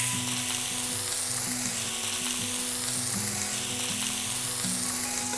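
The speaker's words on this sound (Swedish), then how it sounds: "Så nu är det bara att steka de här på medelvärme" Pork fillet sizzling steadily in a hot pan over medium heat, a continuous crackling hiss with a low hum underneath, no talking.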